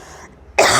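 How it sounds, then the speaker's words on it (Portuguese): A single sharp cough bursts out close by during a biology lesson after a brief quiet stretch. "eu tossi sem querer"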